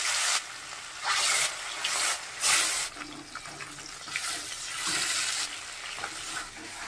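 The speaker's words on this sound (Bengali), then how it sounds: "এখন আমি মাছগুলো ভাজে নেব, তাই কড়াইতে তেল দিয়ে দিচ্ছি।" Rohu fish pieces frying in hot oil with a little turmeric in a kadai, a loud steady sizzle with bursts of crackling spatter, no talking.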